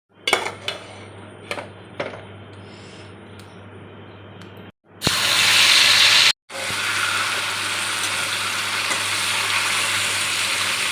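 Boiled vegetable stalks are fried in a pan for a stalk and pumpkin curry: a few utensil clinks come first, then a loud, steady close sizzle takes over after a brief pause.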